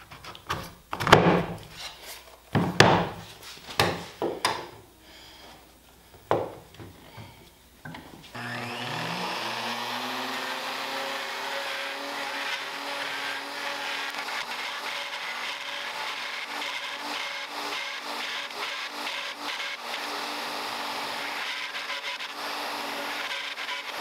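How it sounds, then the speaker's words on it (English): A woodworking router fitted with a bearing-guided pattern bit cuts along the inside of a jig on a live edge table, starting after a few knocks and clatters and then whining steadily and loudly for the rest of the clip. "I have a pattern bit in my router with a bearing on it to ride the inside of my jig"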